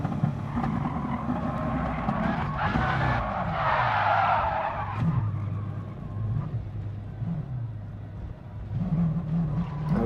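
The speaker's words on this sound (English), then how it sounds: "There we clip the curb and spin out." A race car in Gran Turismo Sport, during an online multiplayer race, clips a curb and spins out: tyres skid and squeal loudly over a steady engine drone, the roar rising and falling as the car slides, with a voice talking briefly.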